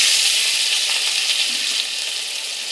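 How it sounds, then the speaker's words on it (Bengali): Onions and chopped tomato fry in hot oil with cumin in a pan, giving a steady bright sizzle with no talk. "দেখো পেঁয়াজ ভাজা হয়ে গেছে"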